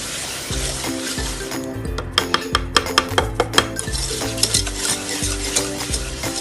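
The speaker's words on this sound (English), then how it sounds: "Mix it very well until it's incorporated with the butter." Brownie batter stirred with butter in a bowl, a steady scraping swirl with a run of sharp utensil clinks against the bowl in the middle, close and fairly loud, with music playing throughout.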